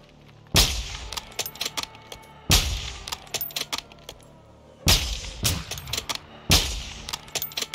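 Bursts of gunfire in the video game Call of Duty MW2: four loud, sharp volleys spaced a couple of seconds apart, each trailed by rapid crackling shots and short echoing tails, with no talk.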